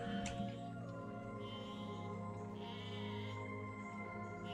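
Sheep in the physics-building game Besiege bleat in a few wavering, nasal calls over a steady droning game-engine hum, fairly close but not loud.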